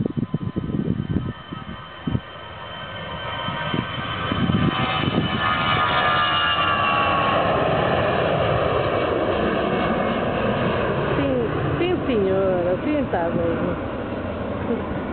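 An airplane at Francisco Sá Carneiro International Airport in Porto swells into a loud, sustained engine roar that fills most of the span. A person speaks now and then under the noise.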